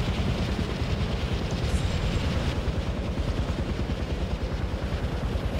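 Helicopter in the video game Far Cry 4, a loud continuous rotor thumping with rapid regular low pulses and a steady engine rumble, close and unbroken with no talking.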